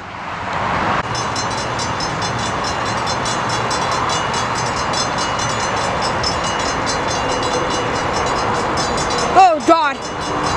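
Amtrak passenger train rolling steadily past nearby, a continuous loud rumble and rail roar with high squealing tones lasting the whole stretch, then a brief horn-like burst near the end.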